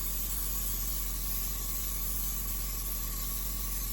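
An airbrush sprays paint onto net for a tutu, giving a continuous, steady hiss close to the microphone, unbroken and alone with no talk.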